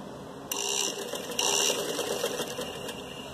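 A sewing machine runs a line of stitching through elastic on trousers, the fabric stretched as it feeds. The steady close mechanical whirr starts abruptly, pauses briefly, then resumes and keeps going.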